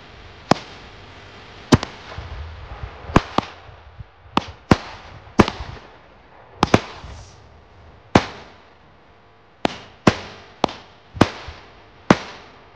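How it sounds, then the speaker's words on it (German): Fireworks from cheap 9-shot 20mm firework batteries explode in sharp, scattered bangs, about a dozen loud blasts at irregular intervals with rumbling echoes fading between them. "Explosionen."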